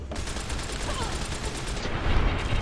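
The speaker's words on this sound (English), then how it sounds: "Things are exploding." Grenade launcher explosions in Fallout New Vegas, with a dense, rumbling barrage of blasts and crackling gunfire and heavy booms swelling toward the end.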